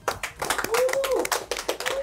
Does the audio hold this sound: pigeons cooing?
no